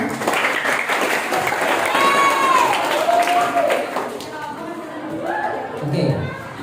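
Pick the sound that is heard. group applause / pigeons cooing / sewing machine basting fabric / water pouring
group applause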